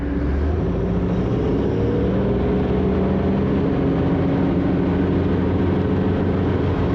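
A 1973 Cobalt boat with a Mercruiser 165hp engine accelerating onto plane, a loud steady engine roar with rushing water and wind noise throughout.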